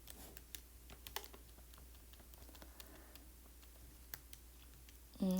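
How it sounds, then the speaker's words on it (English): Keys being typed on a calculator or computer keyboard, heard as soft, scattered clicks in an uneven rhythm over a quiet room hum, with a louder thud at the very end. "let me type it"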